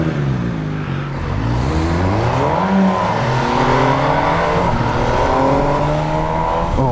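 A car's engine, the RS, revs and accelerates steadily, its tone climbing and falling through the gears in a loud, continuous drone close by, with no voices.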